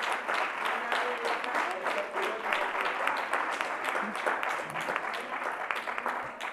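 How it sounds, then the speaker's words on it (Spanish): Loud, sustained applause from a gala audience at a Nativity scene and Christmas tree contest awards ceremony, dense steady clapping filling the whole stretch with no voices on top. "Un aplauso muy fuerte."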